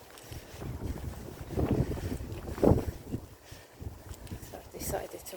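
Gusty wind on a cool morning walk buffets the microphone in uneven surges, rising in a few stronger blasts while a person talks over it.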